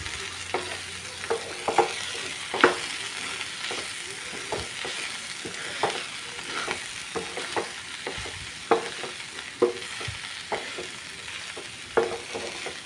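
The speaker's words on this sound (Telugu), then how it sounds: "ఇప్పుడు వీటన్నిటిని మంచిగా కలుపుకుందామండి" A spoon stirring pesarapappu cauliflower curry with herbs in a frying pan, soft scraping strokes at an irregular pace over a steady, gentle sizzle.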